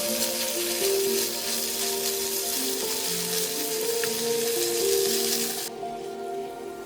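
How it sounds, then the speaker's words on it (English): Bacon sizzling in melted butter in a hot pan, a steady dense crackle with scattered pops and a faint hum beneath, dropping noticeably quieter near the end. "Butter melts in the hot pan, then bacon sizzles, fat pooling, edges browning."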